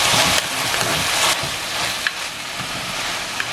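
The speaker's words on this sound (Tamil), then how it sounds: "ஒரு 4 நிமிஷமாக இதுலேருந்து வதங்கி கொண்டிருக்கு." Snake beans and peanuts saute in a pan for a Jaffna-style dish, a loud steady sizzle close by, with brief stirring scrapes and clatters.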